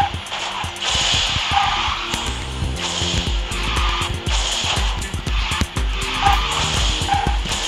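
Vulcan fire car drifting across a snow map in Garena Speed Drifters, a continuous engine drone with tire skid and squeal layered over game music, steady and close throughout.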